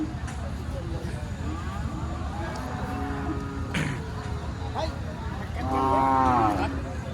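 A bull calf lowers out a drawn moo near the end, heard over steady outdoor murmur and people talking at a busy cattle market in Rustampur, Rajshahi.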